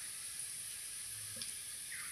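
Onions fry in hot oil with turmeric and chili powder in a pan, giving a faint, steady sizzle with a light scrape of stirring.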